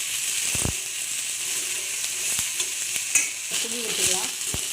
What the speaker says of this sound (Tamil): எல்லாத்தையும் போட்டு ஒரு 2 நிமிஷம் நல்லா வதக்குங்க.